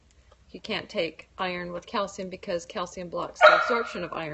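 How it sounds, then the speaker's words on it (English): A dog barks and yips in short bursts indoors, partly under a person talking nearby. "Sorry, that was my dog."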